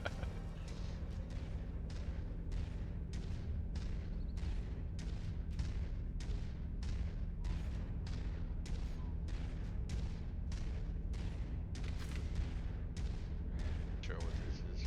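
Repeated artillery blasts in Mechwarrior 5 on the battlefield arrive as a regular series of sharp booming impacts roughly every half second, each cracking and fading over a steady low engine hum, fairly loud throughout.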